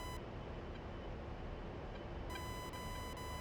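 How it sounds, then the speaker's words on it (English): A steady electronic cockpit warning tone in the DCS A-10C II flight simulator game repeats in short, evenly spaced beeps over a constant engine-like hum, fairly loud and continuous throughout. "This beeping is very distracting."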